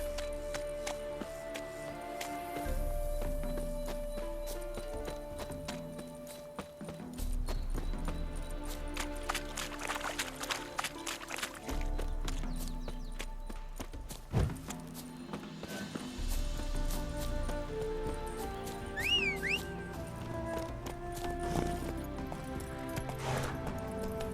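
Horse hooves clip-clopping and trotting in The Witcher 3, steady and mid-distance, with a brief whinny, set among the game's background music and ambience; no talking.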